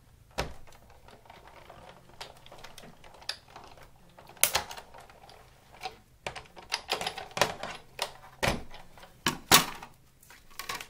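Big Shot die-cutting machine cranked by hand as cardstock passes between standard cutting pads, giving a run of sharp clicking and clacking bursts close by with short quiet gaps, no voices.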